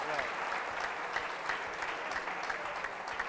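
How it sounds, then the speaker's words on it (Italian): Studio audience applauding during a football quiz show final, even sustained clapping from many hands, moderately distant and continuous throughout. "Applauso, applauso,"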